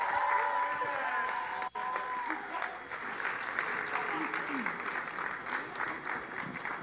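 An audience at a conference session on women and religion claps steadily throughout, a dense even patter of many hands heard from within the room, with voices mixed into it.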